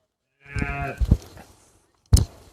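A garole sheep on a farm gives a drawn-out, low, throaty bleat close to the microphone, then a second short call after a brief pause.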